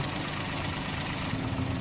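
A car engine idles steadily nearby, a continuous low rumbling drone with a slight knocking vibration and no voices.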